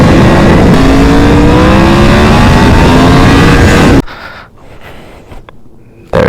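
A 2017 Yamaha MT-10 motorcycle engine revs loud and close for about four seconds, its pitch sweeping up and down, then cuts off abruptly, leaving quiet background noise before a brief burst at the end.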